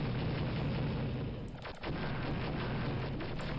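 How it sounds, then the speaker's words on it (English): A missile explodes in the video game Star Wars: Dark Forces, a loud deep boom with a sharp burst that cuts through continuous dense in-game rumble and noise. "Do not let that missile hit you, by the way."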